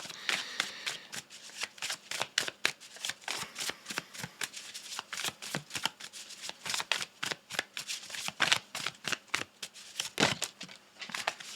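A deck of tarot cards is shuffled over and over, producing a rapid, close, crisp riffling with dense papery slaps and flutters that continues without talk.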